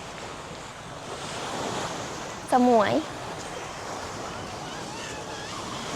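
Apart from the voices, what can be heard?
sea waves at the beach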